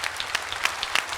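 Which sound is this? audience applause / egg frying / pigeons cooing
audience applause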